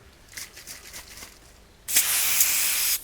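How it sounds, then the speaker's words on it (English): Servisol foam cleanser sprayed onto a Fender Blues Junior amplifier: a single loud, steady aerosol hiss lasting about a second, preceded by faint softer rustling. "So I'm going to get some spray on that, and we'll give it a spray."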